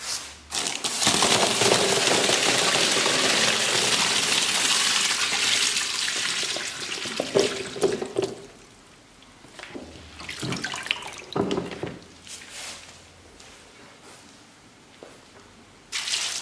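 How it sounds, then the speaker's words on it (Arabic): Water poured out and changed while rinsing crushed olives in a basin, a loud steady gush and splash for several seconds, then quieter sloshing and trickling, with a fresh burst of pouring at the end. "بالنسبة لهذا الماء كل مرة كنبقى نخويه، وكل مرة غادي نبدلو الماء"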